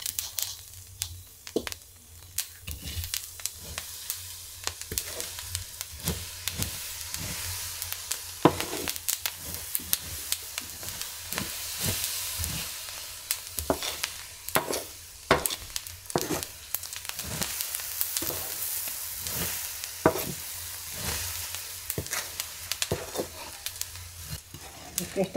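Coffee beans roasting on a clay comal, with a steady sizzling, crackling hiss and repeated scraping, stirring strokes throughout, fairly close and continuous.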